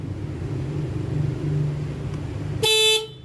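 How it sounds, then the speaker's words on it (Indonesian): A Nissan Grand Livina horn sounds one short, loud blast when its terminals are jumpered during diagnosis, after a low idling engine rumble. "Ini kalau saya hubungkan dengan jumper antara terminal 2 dengan 3, ketika klaksonnya tidak putus atau tidak rusak, dia harusnya menyala ya."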